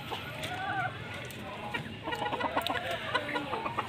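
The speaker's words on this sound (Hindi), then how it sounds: "जुहेर, इस मुर्गे को अंदर कर देना, ठीक है, और उस मुर्गे को निकाल दे ज़रा" Chickens and a rooster cluck in a backyard coop, giving irregular bursts of clucking and squawks over a busy, close background.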